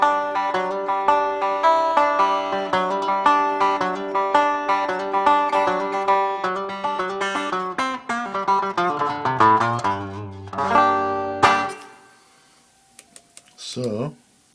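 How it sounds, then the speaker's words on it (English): A Line 6 JTV-59 Variax guitar set to a resonator patch plays a run of plucked, twangy notes and chords at a steady pace before the last notes ring out and fade into near silence. "I can just hit a button and it goes to like a resonator sound"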